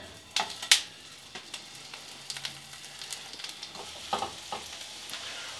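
Tempeh pieces frying in a tablespoon of oil in a hot pan, with soft, scattered crackles and a few sharper pops over a quiet background.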